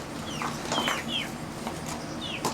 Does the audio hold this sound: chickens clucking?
yes